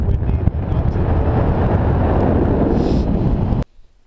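Strong wind on Mount Shasta near the summit roars and buffets the microphone for several seconds, then cuts off abruptly to near silence.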